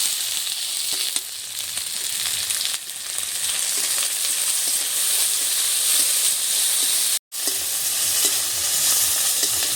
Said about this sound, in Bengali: আদা রসুন বাটাটা দিয়ে আমি একটু নেড়ে চেড়ে নিচ্ছি এবার দিয়ে দিচ্ছি চিংড়ি মাছ